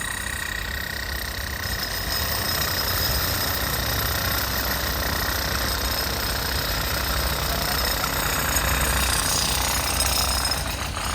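A jackhammer cuts out concrete from a roadside drainage channel, a loud, continuous rapid hammering that runs steadily throughout alongside an engine's rumble, close to the listener with no talk.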